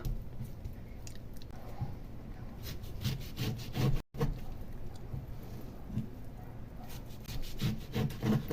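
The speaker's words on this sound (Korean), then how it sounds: "너무 길기 때문에 이렇게 한번 잘라주는 게 좋습니다." Softened dried radish greens for a doenjang stew are cut into bite-sized pieces, making repeated rough, fibrous cutting strokes up close, with a brief silent break midway.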